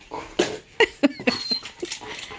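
A dog whimpers and yips in short, high, uneven bursts at close range, with soft patter between the cries and no talk.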